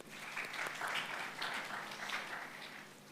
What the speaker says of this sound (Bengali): তোমাদের জন্য করতালি